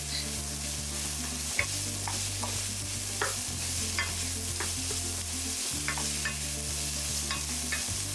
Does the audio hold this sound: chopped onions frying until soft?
yes